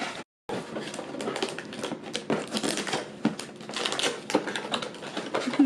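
Newly bought IKEA candle holders being unpacked, with dense crinkling and tapping of packaging that runs continuously and close up, broken by a brief silent gap near the start.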